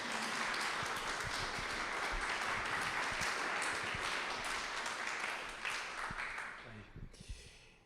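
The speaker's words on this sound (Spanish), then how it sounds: "le doy la bienvenida al Padre Antonio Carrón con un fuerte aplauso" A conference audience on safer schools and parishes claps in a sustained round of applause that fades toward the end, with a few murmurs underneath.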